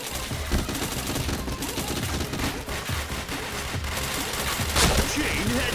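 Rapid gunfire in a video game, a dense, sustained fusillade of overlapping shots and bursts with a louder burst near the end, with brief voice callouts in the mix.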